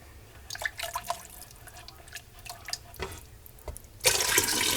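Water from a quart pitcher being poured into a pot of Texas red chili with tomato paste: scattered drips and small splashes, then a loud, steady rush of pouring close by in the final second.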